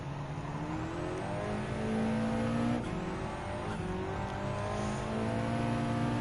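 Track-only supercar accelerating in Gran Turismo 7, a continuous high engine whine rising and falling through gear changes, steady and loud with no talking.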